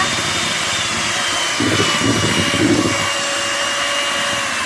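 An electric hand mixer whirs steadily as it beats batter for an old-style pandan sponge cake, a continuous close motor drone that grows slightly louder and rougher midway, with no talking.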